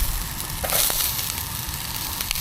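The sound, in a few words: Chinese curry ingredients frying in oil while stirred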